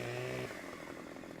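A chainsaw cuts into a tree in Farming Simulator 15, a faint droning engine whine that shifts pitch partway through as the blade bites, heard alone and at low volume.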